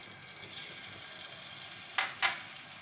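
Ginger garlic paste frying in about half a cup of oil in a kadhai, a soft steady sizzle near the end of which two short sharp spatters or scrapes stand out, no voices.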